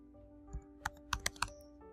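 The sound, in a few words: typing a search into a computer keyboard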